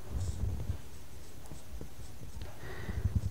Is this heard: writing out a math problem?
yes